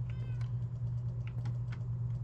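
A cat meowing in a cozy village video game, several short mews spaced over a low steady hum, with faint clicking like typing and no talk.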